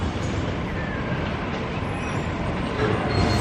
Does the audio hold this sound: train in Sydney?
yes